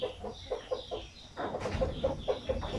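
Chickens kept in a backyard pen, some of them broody hens with chicks, cluck in a steady string of short repeated calls at close range, with one brief louder squawk partway through and no talking.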